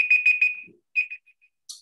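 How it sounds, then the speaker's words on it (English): Timer alarm ringing in short repeated electronic beeps, a quick burst of four, then two more and a few fading pips, close and loud over an otherwise quiet background. "That was my timer."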